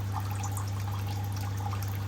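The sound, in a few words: water dripping during fish drip acclimation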